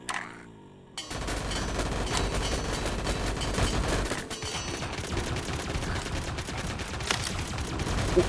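A ray gun fires in the VRChat video game in a dense, sustained burst of rapid shots after a brief quiet start, loud and continuous.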